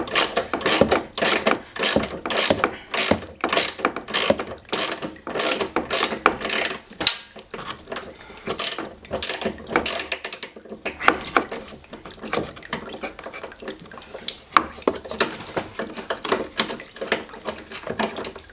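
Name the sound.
ratchet wrench turning 10 mm bolts on a Toyota GT86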